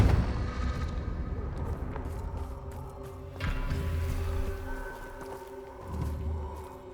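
A Confringo fire blast spell goes off in Hogwarts Legacy: a deep, rumbling burst that swells and fades under steady game ambience, with another muffled boom later on.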